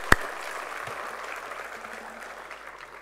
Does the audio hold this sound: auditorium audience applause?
yes